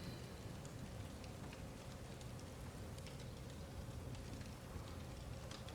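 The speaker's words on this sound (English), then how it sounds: "I've always been fascinated by the rain." Rain falls steadily as a soft, dense hiss with scattered faint patters and drips. It stays constant and quiet throughout, with no voices.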